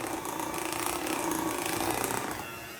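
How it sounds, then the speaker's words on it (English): A motorized mixer whirs steadily with a gritty, grinding buzz, running continuously before easing off slightly near the end. "you can hear that mixer's really working it now"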